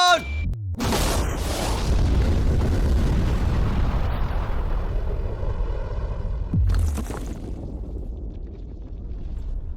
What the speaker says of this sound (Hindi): आपने अब तक जितने भी धमाके देखे हैं, अगले वाला धमाका उन सबसे बड़ा होने वाला है।